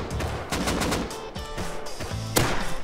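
Rapid gunfire in the survival game Rust, several close, sharp shots in quick bursts over a busy, noisy background, with a louder crack near the end.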